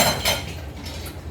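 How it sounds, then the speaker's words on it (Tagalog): Utensils and dishes clinking during washing up after cooking green bean adobo, with a burst of clattering near the start and a sharp clink at the end over a steady background. "para tayo ay maghuhugas ng ating gamitan dito para pagkatapos na magluto"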